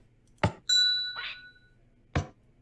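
In a video game, a doorbell gives a clear, bright chime that rings and fades over about a second. Two short, sharp knocks come before and after it in otherwise quiet surroundings.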